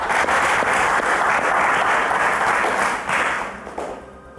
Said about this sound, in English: So a round of applause to Kehinde